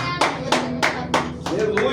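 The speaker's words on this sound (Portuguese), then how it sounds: "Você pode aplaudir o Senhor nessa noite?" Rhythmic clapping from a church congregation during an evening worship service, about six loud claps in steady succession with a faint voice underneath.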